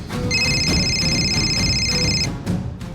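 An electronic telephone ring trills steadily at a high pitch for about two seconds over background noise, then cuts off.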